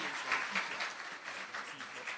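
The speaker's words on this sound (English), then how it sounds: "Give Miss Harrison a round of applause, ma'am." Steady applause from a high school student audience, a dense patter of many hands clapping at moderate volume throughout.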